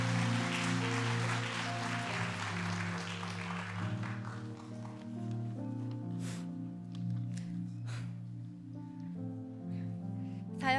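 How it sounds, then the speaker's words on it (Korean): A church congregation at a Wednesday worship service claps to welcome a speaker; the applause is strongest at first and fades after a few seconds while sustained keyboard music continues underneath. "우리 박수로 또 격려하면서 맞이하겠습니다"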